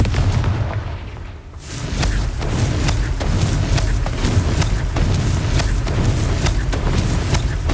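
A Confringo fire-blast spell going off in Hogwarts Legacy: loud, dense bursts of booming impacts that repeat in a rapid, uneven barrage over a continuous roar, close and dominant, with no talking.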